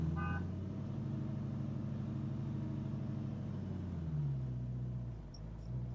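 Low idling rumble from a 1968 Mustang Fastback V8 with a manual clutch, steady and close, dipping slightly near the end as the engine load shifts.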